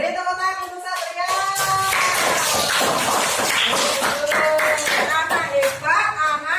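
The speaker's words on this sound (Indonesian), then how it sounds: "Beri tepuk tangan untuk Satria." Children clapping together for a classmate in a classroom, a dense, steady patter of hand claps under a teacher's voice and children's chatter throughout.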